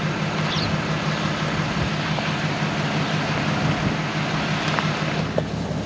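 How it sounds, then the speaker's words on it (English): Steady, dense hiss of rain with a low rumbling hum beneath, constant throughout with no voices. "I'll just stick the camera out, it is raining."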